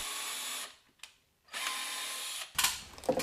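A power drill bores 4 mm pilot holes for screws in roof rafters beneath thin attic insulation. It runs in two loud, steady whirring bursts separated by a short pause, then gives a few clattering knocks as it stops.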